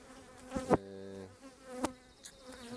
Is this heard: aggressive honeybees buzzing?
yes